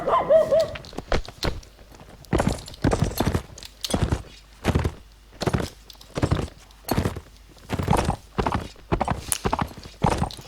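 Horse hooves clip-clopping in the Mount and Blade Warband game, a loud regular run of sharp hoof thuds in quick pairs, close up and alone.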